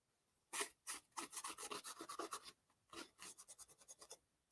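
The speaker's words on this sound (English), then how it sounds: "I'm just kind of scraping it off" Light scraping of excess gold leaf off an adhesive-coated surface: a run of short, soft rasping strokes in quick rhythm, close and fairly quiet, with brief pauses between bursts and no talking.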